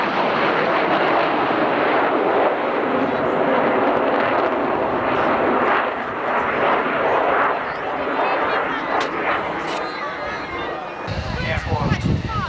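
An F-16 fighter jet passes low over an airshow crowd, a loud sustained roaring rush with crackling engine noise that swells and fades, while crowd murmur and talk run underneath.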